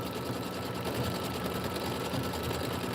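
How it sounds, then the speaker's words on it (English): A sewing machine runs continuously, a fast even mechanical whirr and patter, fairly quiet and close, alone without talk. "you're going to switch your machine over to sewing after this because we're going to sew."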